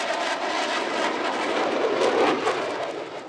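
U.S. Air Force Thunderbirds warplanes flying over an air show in Brunswick make a sustained, loud jet roar that swells toward the middle and eases off at the end, with no talking.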